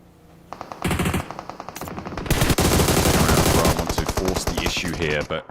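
Gunfire in the mobile battle-royale game PUBG Mobile during a PMSL EU esports grand final, with loud rapid machine-gun bursts that grow into sustained overlapping automatic fire and faint commentary underneath.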